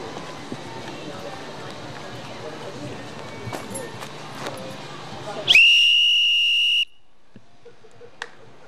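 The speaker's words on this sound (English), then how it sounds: "Just testing the whistle." After a stretch of muffled background noise, a single sharp whistle blast rings out loudly for over a second, then cuts off abruptly into near silence.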